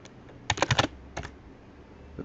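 Quick bursts of keystrokes on a computer keyboard while entering a rental region name, a close, crisp cluster of taps followed by a few more isolated clicks.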